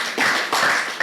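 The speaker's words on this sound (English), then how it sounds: "A round of applause for Teacher Kaka." A short burst of audience applause at a Nigerian youth debate event, with dense clapping from a crowd that swells and fades within about a second.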